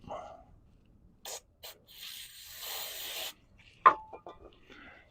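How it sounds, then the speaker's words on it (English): Brake cleaner is sprayed onto a bolt from the rear differential of a Ford F250 Super Duty. Short hissing spray bursts lead into a longer close hiss, followed by a sharp metallic clink and faint handling noises. "we're going to use a little brake clean on our bolt."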